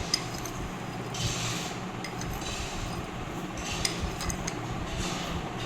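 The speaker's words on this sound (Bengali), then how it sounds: "ভালো করে এবার দইটাকে ফেটিয়ে নেব চিনির সাথে।" A spoon whisks 600 grams of sour yogurt with sugar in a bowl for lassi, giving repeated quick clinks and scrapes against the bowl in uneven bursts.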